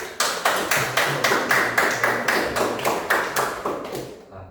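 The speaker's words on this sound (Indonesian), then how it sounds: "Beri aplaus untuk teman-teman yang sudah jawaban." Classroom students applauding classmates who answered, a short run of about a dozen evenly spaced, rhythmic claps close by that fade out at the end.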